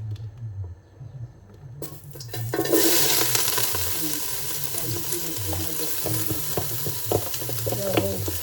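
Sliced jalapeños and onions hit hot oil with a sudden burst of loud frying that settles into a steady, close sizzle, with small clatters of stirring; a low hum and some voices come before the sizzle starts.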